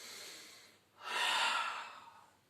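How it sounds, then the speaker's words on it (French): A single strong, breathy inhalation taken during a Pilates abdominal exercise: a faint hiss first, then a loud rush of air that swells and slowly fades, with no talking. "Inspirez fort."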